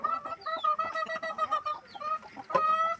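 Hens in a backyard netted coop clucking and chattering in a busy, overlapping run of calls, close and fairly loud, with a sharper squawk near the end and no talking.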